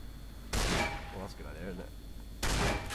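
Shotgun blasts in the video game Fallout New Vegas, two loud booming shots about two seconds apart, with a voice speaking in the gap between them.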